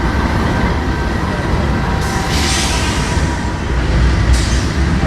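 A Union Pacific freight train including George H.W. Bush locomotive 4141 shoves back slowly, producing a loud, steady rumble of engines and rolling cars with brief hissy bursts.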